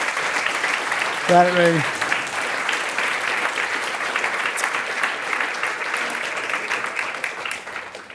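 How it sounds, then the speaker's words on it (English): An audience gives a round of applause at a live food-themed event: a steady, sustained wash of clapping throughout, with a brief spoken phrase near the start. "let's give them a round of applause"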